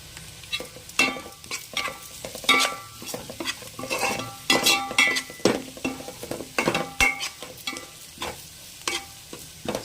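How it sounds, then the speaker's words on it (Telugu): Sliced onions and two green chilies fry in oil in a pan for fish curry, sizzling steadily while a utensil stirs and scrapes in repeated clinks, close and clear. "ముందుగా నూనెలో బాగా వేగినాయండి."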